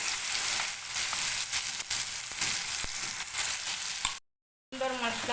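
Masala paste with turmeric frying in oil in a pan after potatoes were fried, a steady close sizzle with faint stirring scrapes for about four seconds, then a brief silence and a different tonal sound at the end.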